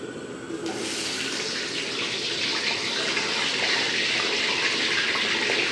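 Water gushes steadily from a kitchen tap as it is run off for draining, a loud, even stream holding constant from start to finish with no voices over it.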